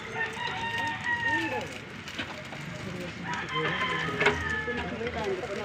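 A rooster crows repeatedly among clucking chickens, the loud, drawn-out calls rising over a steady farmyard background throughout.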